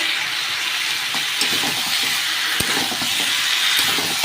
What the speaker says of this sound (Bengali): দিয়ে এটা কিছুক্ষণ ধরে ভালো করে কষিয়ে নেব